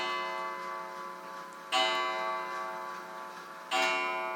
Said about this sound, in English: it's a grandfather's clock ringing and quite old and still working